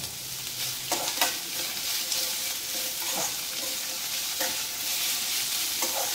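Long-sliced onions sauté in a pan for a paneer roll, giving a continuous bright sizzle with intermittent scrapes and knocks of a spatula as they are stirred.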